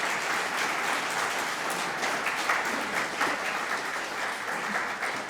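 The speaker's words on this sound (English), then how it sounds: "So I want to give a big applause to Meche and our compañeras." Steady applause from a Unitary Universalist Sunday service congregation honoring visiting community members, a dense even patter of many hands clapping continuously at moderate distance with no one speaking over it.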